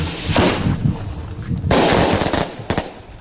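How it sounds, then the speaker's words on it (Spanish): Firecrackers bursting near a football crowd in Paraguay, celebrating Olimpia, with sharp cracks and rumbling bursts over a dense, continuous roar of noise. "Con petardo, eso te recibe Gustavito con petardo"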